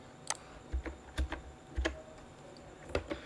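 Someone types a verification code on a computer keyboard: a short run of separate, crisp key taps spaced unevenly about half a second apart, close and clear with no talking.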